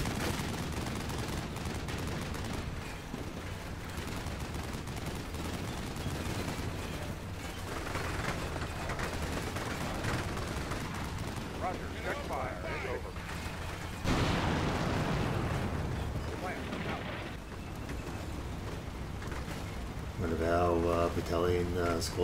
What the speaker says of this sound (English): Gathers its wits and fires back.